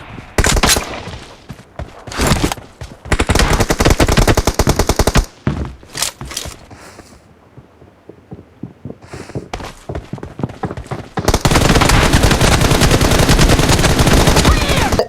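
Rapid automatic gunfire in the video game PUBG (BGMI) comes in loud, dense bursts separated by short pauses, with a quieter gap midway before a long sustained volley at the end.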